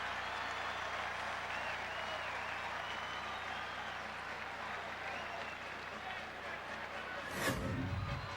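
Baseball crowd at an Oakland at Boston game cheering and applauding after a balk, a broad steady roar of clapping and voices held throughout at moderate distance, with a brief louder swell near the end.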